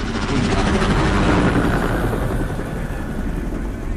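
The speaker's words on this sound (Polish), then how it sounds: "No i przeleciał helikopter." A helicopter flies over in the video game Call of Duty: Advanced Warfare, a loud, continuous rotor and engine roar that peaks early and eases slightly as it passes, with no voices.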